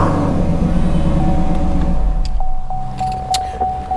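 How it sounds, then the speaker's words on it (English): A 2020 Chevrolet Camaro SS Hendrick's Edition, its battery drained by lights left on, runs with a loud, close rumble for two seconds, then settles as a steady electronic chime and faint clicks take over. "Car still starts after 30 minutes."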